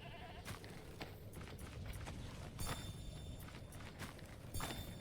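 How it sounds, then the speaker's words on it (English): Goats bleat repeatedly in the video game Diablo 4, short calls scattered over a busy game soundscape with footsteps and ambient noise, moderately loud and mixed with other effects. "Little goatees bleating all over the place."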